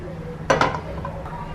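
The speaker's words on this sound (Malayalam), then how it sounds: "പാൻ വെച്ച ശേഷം എണ്ണ ഒഴിച്ചു കൊടുക്കാം." A cooking pan set down on a stovetop before sunflower oil goes in for a spicy brinjal pan fry, heard as two quick, close metallic clanks over a quiet kitchen background.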